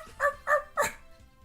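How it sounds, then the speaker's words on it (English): A seal in Castlevania: Dawn of Sorrow gives three short, sharp barks in quick succession, close and clear, with little else around them. "Seal barking."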